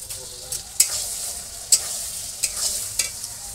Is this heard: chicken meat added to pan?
yes